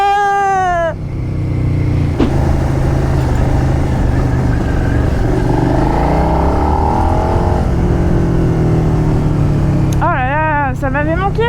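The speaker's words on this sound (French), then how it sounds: "Ça m'avait manqué ce petit bruit là. Je prends pas la moto assez souvent." A motorcycle engine runs steadily and loud on a city street after a green light, its drone rising in pitch as it pulls away, with a person's speech heard at the start and end over the engine.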